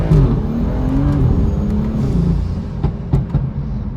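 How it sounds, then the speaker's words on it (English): A car with an N55 engine and a Turbo Smart VR9 dual port blow-off valve accelerates hard. A loud, close engine roar climbs in pitch, with brief whooshing bursts near the end as the revs break. "let's do a pull real quick and see how you guys like it and how the car performs"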